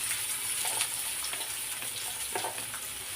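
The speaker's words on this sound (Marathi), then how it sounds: "तेल गरम झालं की आपल्याला याच्यामध्ये कांदा घालून घ्यायचा आहे." Onion frying in hot oil in a kadhai, a steady dense sizzle with faint stirring scrapes, fairly loud and continuous with no talk.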